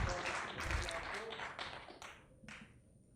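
Audience clapping at a mushaira poetry recital at Jashn-e-Fehmi Badayuni: a short burst of applause that starts full and thins out over a few seconds, with voices mixed in.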